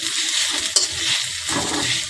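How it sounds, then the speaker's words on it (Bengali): Salt being stirred into bottle gourd greens frying in a pan, a close, steady sizzle with a scrape of the spoon partway through. "লবণটা দেওয়ার পরে খুব সুন্দরভাবে মিক্সচার করে দিচ্ছি লবণটা।"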